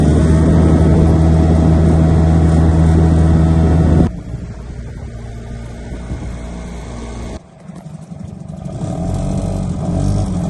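A motorboat engine drones loud and close on a river, with a strong steady hum that drops off sharply partway through and then rises again toward the end.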